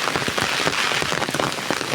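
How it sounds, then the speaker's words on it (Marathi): Heavy rain pours steadily, a dense continuous hiss of drops drumming on surfaces with no pauses. "खतरनाक असा पाऊस पडू राहिला"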